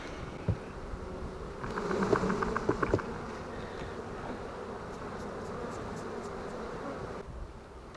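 Honeybees hum around an opened hive as frames are put back, a steady low buzzing with a few nearby passes and light clicks, fairly quiet throughout.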